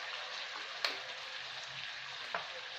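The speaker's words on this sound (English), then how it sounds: "I need to put little bit of oil so we can fry it" Pork belly fries in a little oil for Filipino adobo, giving a steady, soft sizzle throughout with two brief sharper pops or spatters standing out.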